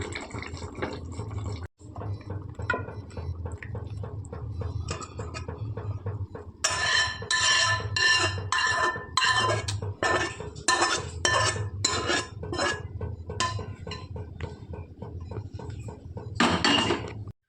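Cooked prawn curry being poured and scraped from a pan into a dish, with metal utensil clinks, scraping against the pot and wet splashing, in a quiet kitchen.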